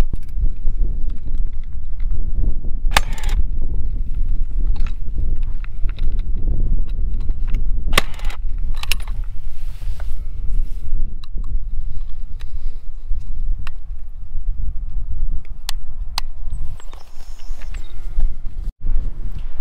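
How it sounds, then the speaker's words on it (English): Strong gusty wind buffets a microphone outdoors at a sheep pasture, making heavy low rumbling and thumping with bursts of harsher noise that keep up throughout. "It's crazy windy, so all you'd hear is wind noise."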